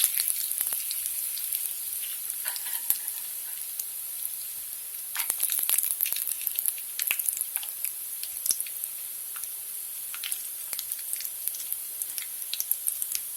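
Cashew nuts frying in hot oil in a pan, a steady bright sizzle with scattered pops and crackles running throughout, close and fairly even in loudness.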